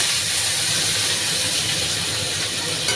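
Tomato tipped into hot oil with cumin, black cumin and bay leaves gives a loud, steady sizzling hiss that holds evenly throughout, with no talking.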